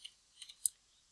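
Several faint, isolated keystrokes on a computer keyboard while typing out a CSS file path during HTML and CSS coding, a few quick clicks spread across a quiet moment with no talking.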